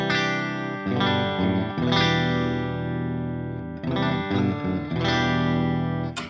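Distorted electric guitar run through a PolyChrome DSP Nunchuck vintage amp sim styled after a worn old Marshall, playing sustained crunchy chords with a couple of re-struck attacks, loud and continuous with no talk.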